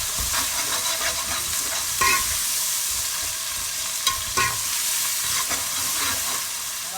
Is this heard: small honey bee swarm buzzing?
no